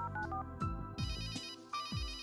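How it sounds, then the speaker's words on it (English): A telephone rings during a call in the adventure video game Runaway: A Road Adventure, with repeated electronic ringtone bursts in a steady rhythm, clear and alone. "I'll call Willie and try to get him to enter the analysis laboratory"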